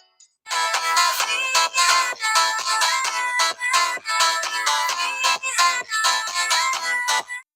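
An HMD Touch 4G phone plays its ringtone through the built-in speaker, a loud, bright electronic melody of short repeated bursts with brief gaps, close and clear with little bass.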